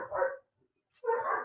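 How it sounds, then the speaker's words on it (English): Two loud, close dog barks separated by a short silence, each a single gruff woof, with no talking around them. "Sorry about the dog barking there."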